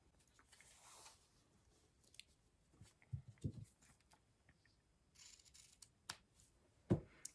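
Scissors snip through velvet ribbon in a few quiet, separate cuts with soft crunching and rustling between them, close by and with no talking.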